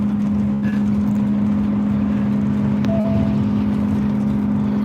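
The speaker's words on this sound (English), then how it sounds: "Dad's driving right now." A car drives along a road from inside the cabin, giving a loud, steady engine hum and road rumble with a constant low drone and no talk.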